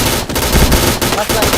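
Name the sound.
gunfire in a shooting video game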